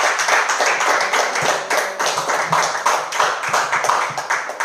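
Close, brisk clapping from worshippers at a church service forms rhythmic applause that rises and falls over a few seconds, with no speech.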